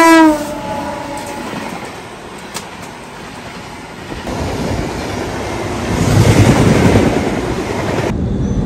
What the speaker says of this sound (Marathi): आता ट्रेन इथून निघतीये